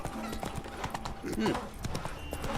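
Horse hooves clip-clop in steady rhythm in The Witcher 3, close and fairly loud under game dialogue and background music.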